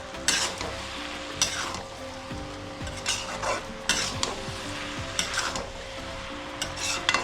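Fish head and cabbage curry stir-fried on high flame, a steady sizzle under repeated scraping and clanking of a spatula against the pan in an irregular rhythm, close up.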